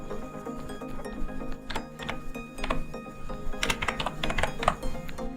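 Typing on a computer keyboard: soft, close clicks in irregular bursts of keystrokes, a quicker flurry near the end, over a quiet hum.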